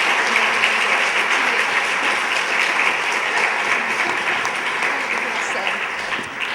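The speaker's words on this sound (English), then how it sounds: "So I would like us to take a moment and give her a round of applause" A steady, dense round of applause for a filmmaker after a film screening, filling the room evenly at a strong level with no break.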